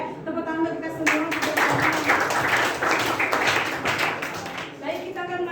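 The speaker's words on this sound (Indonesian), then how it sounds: "Ya, tepuk tangan kita semua" A class of schoolchildren claps together during a lesson, a dense burst of hand claps that lasts several seconds, with voices before and after.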